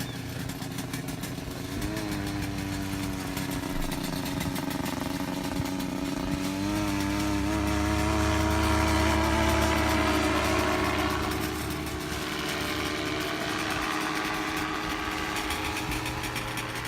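Small paramotor engine running during a ground lesson, a steady buzzing drone with a slight rise in pitch partway through, close and constant, with faint wind or handling noise around it.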